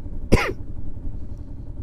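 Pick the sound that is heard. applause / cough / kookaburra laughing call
cough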